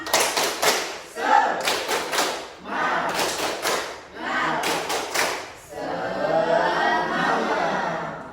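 A classroom of students doing the tepuk semangat rhythmic clapping routine: loud bursts of quick hand claps grouped into patterns with short pauses between them, mixed with voices chanting along.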